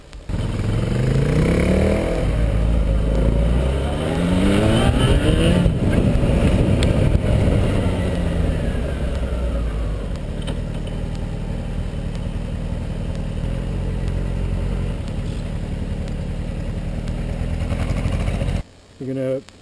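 A motorcycle revs and accelerates through low gears during slow parking lot practice laps, its engine rising and falling steadily and up close for most of the clip, with an instructor's voice talking over it at times.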